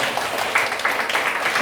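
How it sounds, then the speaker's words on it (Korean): An audience at a church debate forum applauds vigorously, a steady, dense clapping that fills the room without pause. "우리 같이 힘찬 박수로 한번 마치도록 하겠습니다"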